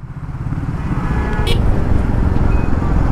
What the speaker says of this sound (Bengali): এটা মনে হয় ব্রিজের জ্যাম।